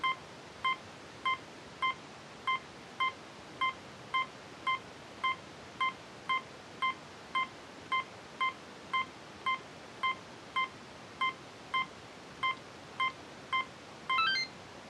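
A Casio CTK-520L keyboard in test mode emits short electronic button beeps, about twenty evenly spaced tones in a steady rhythm, clear and alone with no talking.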